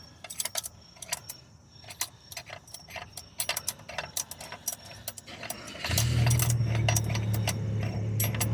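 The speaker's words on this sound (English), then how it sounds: "use your ratchet. Okay, and then it's going to draw the thing forward" A ratchet wrench turns a puller bolt to draw the pulley off the crankshaft of a 2002 Buick LeSabre, giving bursts of quick, close metallic clicks. A steady low hum joins near the end.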